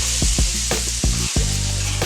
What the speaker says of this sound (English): I'm gonna throw a little bit of butter in these mushrooms here